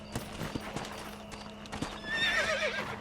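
A horse in the video game Red Dead Redemption clops its hooves in a steady rhythm, then lets out a loud, wavering whinny near the end, heard close with no talk over it.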